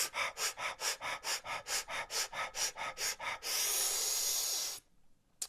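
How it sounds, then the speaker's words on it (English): Fire breathing exercise: about fifteen forceful, rapid breaths pulse in a steady rhythm, followed by one long sustained exhale that cuts off to near silence, all close and loud. "Fire breathing."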